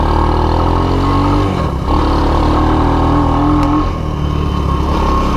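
A Honda ATC185S three-wheeler, an old survivor just repaired, idles and runs steadily at close range, with a mid-pitched engine drone that dips briefly partway through before settling again, no talk over it.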